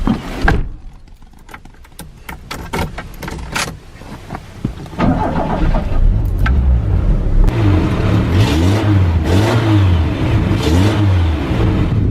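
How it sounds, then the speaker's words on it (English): Clicks and knocks come first from inside a Toyota AE85 Levin with an automatic transmission and about twenty thousand original miles. Then the engine fires up and settles into a steady idle broken by several rising and falling revs, loud and close. "at least I can start it up and rev it"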